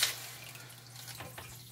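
Water drains from the black line of an RO/DI water filter system, a quiet trickle and drip after a brief hiss at the start, faint and close.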